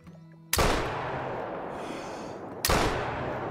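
Elephant rifle fired at a grizzly bear while hunting, heard as two loud, close gunshots about two seconds apart, each with a long rolling echo and no talking.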